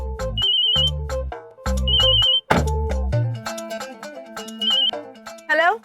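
A phone ringtone plays loudly and close, a repeating melodic tune in bursts with short pauses, ending with a brief voice.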